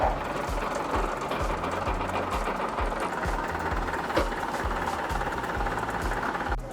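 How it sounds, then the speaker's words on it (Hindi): A crane lifts a 44-tray commercial rotary bakery oven into a truck, its machinery giving a steady, loud mechanical drone with a regular pulsing rumble and faint clanks throughout. "हमारी जो क्रेन है वो कितने बढ़िया तरीके से इसको यहाँ पे उठा के हमारे ट्रक के अंदर"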